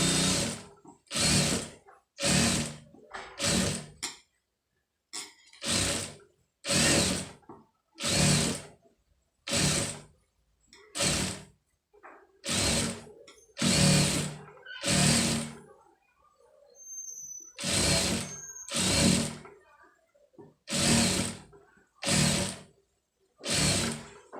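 A sewing machine stitches ready-made piping onto a neck piece in short, close, whirring bursts, roughly a dozen and a half runs, each separated by brief quiet pauses.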